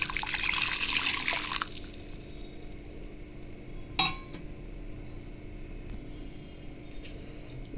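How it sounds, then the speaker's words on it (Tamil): Water poured into a kadai (Indian wok) while making ragi flour sweet adai, a brief bright splashing stream at the start, then quiet with a single metallic clink. "வெள்ளை தண்ணி இதில் ஊற்றிடலாம்."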